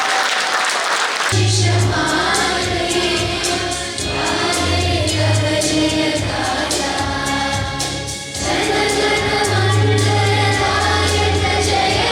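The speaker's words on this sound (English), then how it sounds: "So give a big round of applause to all of you" Audience applause at Rahul Gandhi's Mohabbat Ki Dukan event in the Bay Area rises over loud music with a heavy, pulsing bass. The clapping and the music run together for about twelve seconds.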